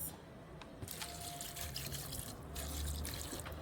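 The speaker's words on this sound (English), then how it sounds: "I'm going to wash the shrimp" Raw shrimp being rinsed with water in a sink during outdoor Jamaican-style cooking, a steady close splashing trickle with soft dribbles and a slight swell near the end, no talking.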